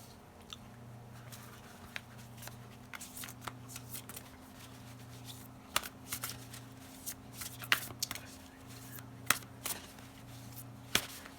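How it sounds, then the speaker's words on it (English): A deck of oracle cards being shuffled by hand: quiet, repeated soft riffling and card snaps over a low steady hum, with no voices. "Let me pull some oracle cards."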